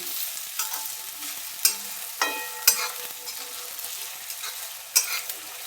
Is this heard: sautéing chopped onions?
yes